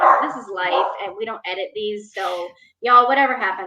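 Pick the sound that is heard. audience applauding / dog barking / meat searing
dog barking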